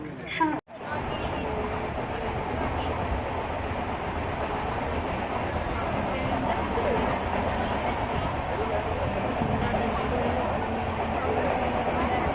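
The 10103 Mandovi Express rolls along the Konkan Railway toward Panvel, a loud, continuous rumble and rattle of wheels and carriages heard from inside the train, with passenger voices faintly mixed in.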